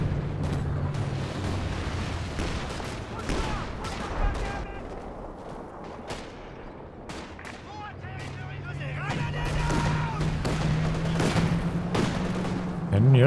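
Gunfire in a Company of Heroes 2 two-versus-two match with anti-tank guns and a flak panzer: repeated sharp bursts and booming shots scattered through the clip over a rumbling battle bed, at moderate loudness.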